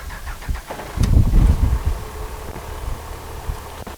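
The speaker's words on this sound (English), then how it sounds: "Restarting the engine." A square-body Chevrolet truck engine cranks and catches with a rumbling burst, then settles into a steady idle, close by.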